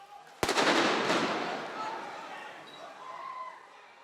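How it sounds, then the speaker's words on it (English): Stun grenades and tear gas fired at protesters dispersing a street demonstration: one sharp, loud blast followed by a long rumbling, echoing decay and crowd noise. "Quickly dispersed, with tear gas and stun grenades testing their stand."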